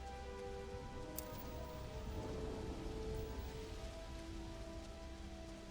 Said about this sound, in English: Okay, it's just a storm.